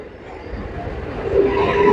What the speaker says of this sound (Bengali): এই ট্রেনটা চলে যাচ্ছে